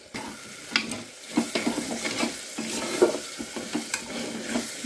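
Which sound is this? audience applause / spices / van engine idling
spices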